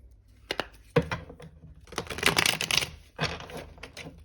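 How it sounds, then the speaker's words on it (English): A few clattering riffles of a tarot deck sound up close, including one dense flurry of rapid flicks in the middle, with brief pauses between. "Okay, we'll do one last shuffle."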